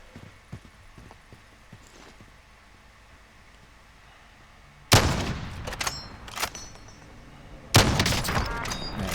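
Gunfire in Call of Duty: Warzone from an assault rifle or sniper, with faint quiet game sounds first and then two sharp loud bursts of shots in the latter half.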